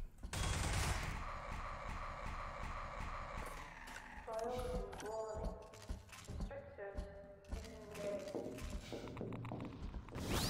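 Gunfire from the video game Amalgam, a loud burst of rapid shots at the start followed by scattered sharper shots and metallic game effects, mixed with a talking voice.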